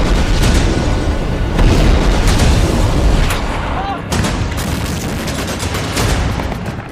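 Heavy bombardment in the Israel–Hamas war, with loud, dense booms and bursts of gunfire rolling continuously for about seven seconds, the blasts close and overlapping rather than isolated.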